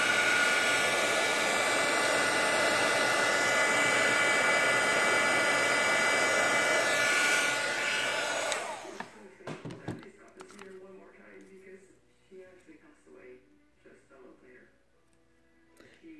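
Heat embossing tool melting embossing powder on enamel-look butterflies: a loud, close, steady blowing whoosh for about eight seconds that then cuts off, leaving faint handling noises, with someone talking over it.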